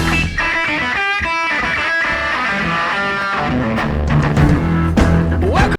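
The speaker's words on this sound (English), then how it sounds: "I want you to pay attention to the reverb decay because you can hear it squeal from the left ear and decay into the right." A track plays a distorted electric guitar with a long reverb tail. The music is loud and continuous, with the ringing decay swelling and shifting throughout.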